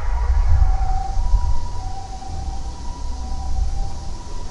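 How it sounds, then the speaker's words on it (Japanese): An ambulance siren sounds faint to moderate as it passes a busy station front, a thin wavering tone over a heavy low rumble of traffic and crowd noise. "救急車が通るから渡るな"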